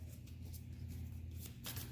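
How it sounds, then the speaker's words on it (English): A deck of tarot cards is shuffled in a soft, continuous papery rustle, quiet and close, with no talking over it. "So we're gonna shuffle and get these cards"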